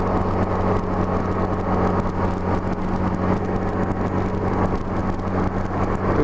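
A Honda GL1200 motorcycle engine runs at steady, even throttle while cruising up gentle freeway grades, giving a continuous loud droning hum mixed with road and wind noise, with no talking.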